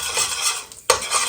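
Curry powder frying in hot oil in a preheated pot for Jamaican curry goat, a bright crackling sizzle with stirring, cut by a short pause and then a sharp utensil knock against the pot.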